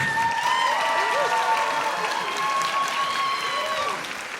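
Audience at an a cappella concert breaks into loud applause for a soloist, a continuous roar of clapping with cheers and whoops riding over it, easing slightly at the close.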